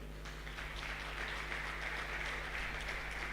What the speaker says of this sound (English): I think we should be more determined in clapping for this very distinguished